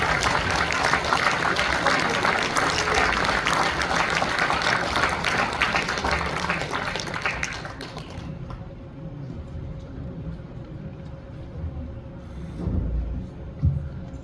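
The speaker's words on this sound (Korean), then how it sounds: "박수해 주시기 바랍니다." Applause at a church elders' assembly closing ceremony, a dense steady clapping from a large gathered crowd that fills the room for about eight seconds and then fades into quieter room noise with scattered sounds.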